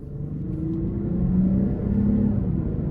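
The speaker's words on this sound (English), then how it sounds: "let's go ahead and take this IS 350 F Sport out on the road for a test drive" A 2023 Lexus IS 350 F Sport with a 3.5-litre engine pulls away on the road, a steady low engine rumble that builds gently as it accelerates, heard alone without talk.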